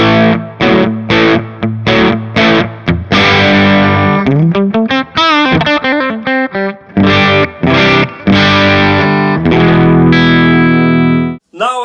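Electric guitar rhythm tone through an Orange AD140 amp profile with no pedal, loud crunchy chords and choppy strums leading into sliding bends and a run of quick notes, then ringing held chords.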